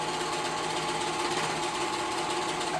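A sewing machine stitching over a curved pocket seam on a babydoll dress, with a continuous close, even mechanical whir that holds steady throughout.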